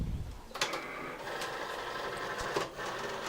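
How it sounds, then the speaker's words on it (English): A Cricut cutting machine scores a fold line and then cuts a shape from textured cardstock, giving a steady mechanical whir with brief clicks and shifts, close and moderately loud with no talking. "It will score the line where the middle of the card is, and then it will cut out the shape."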